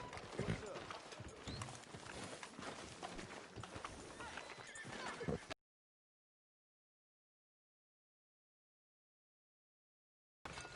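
Hooves clip-clop from a horse in the Western game Red Dead Redemption II, with an occasional neigh, loud and dense for about five seconds before cutting to silence, then resuming briefly at the end.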